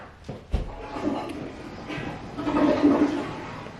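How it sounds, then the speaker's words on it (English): A household toilet flushes in a home with a newborn, a steady rushing swell of water building and peaking toward the end, with a couple of sharp knocks near the start and faint voices in the background. "Flushing."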